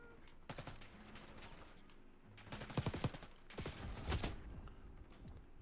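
Pistol gunfire in the Black Ops 6 video game, a few clusters of sharp shots with faint clattering in between, fairly quiet overall and with no talking.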